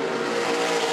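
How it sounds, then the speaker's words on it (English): A NASCAR K&N Pro Series East race car powers onto the throttle off a corner at Thompson Speedway, a loud, steady engine roar held close and continuous, with no voices over it. "you can just hear him go to the throttle"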